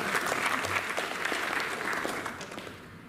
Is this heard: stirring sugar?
no